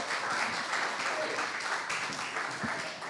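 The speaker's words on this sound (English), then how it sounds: "Big round of applause." An audience at the 2024 Latin Living Legends Awards claps in a steady, dense wash of applause, moderately loud and sustained across the moment with faint crowd murmur beneath.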